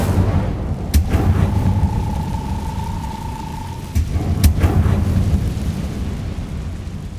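In Hogwarts Legacy, the Incendio fire spell is cast as a few sharp, cracking bursts with booming low ends over a steady rumbling background. A thin sustained tone hangs between the first two bursts.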